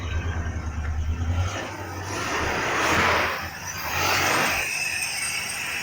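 A 1965 Barracuda's engine runs at its first start, a low idling rumble that fades into swelling, rattly surges and revs, heard fairly close with no talking.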